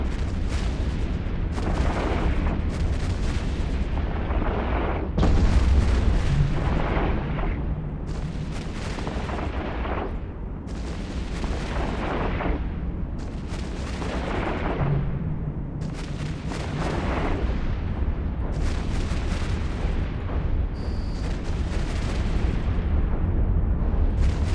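Ship weapons fire in an EVE Online space battle, as a series of heavy, booming volleys repeats roughly every two seconds over a deep, continuous rumble.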